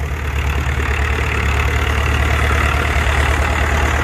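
A rare 340 tractor engine runs at a steady idle, a loud, close, low rumble with an even knocking pulse that holds for a few seconds, with no one talking.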